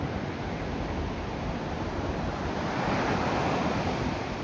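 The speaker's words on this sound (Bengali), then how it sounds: "ভালো লাগছে সমুদ্র এই গর্জনটা খুব মিস করেছে" Sea waves roar steadily onto the shore at Portsmouth, a broad continuous wash of surf mixed with some wind noise, loud and unbroken throughout with no voices.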